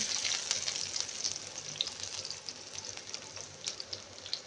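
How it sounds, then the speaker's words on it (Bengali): Cardamom and garlic frying in a pan give a steady, close hiss of sizzling oil with faint crackles and no voices. "এগুলো একটু ফ্রাই করব। রসুন, এখন দেবো রসুন"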